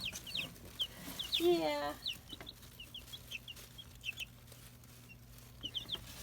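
A small backyard flock of pet hens clucks in soft, scattered bursts close by, with one louder drawn-out squawk, while a person briefly speaks.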